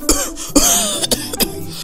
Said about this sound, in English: He was coughing louder than a trotro engine.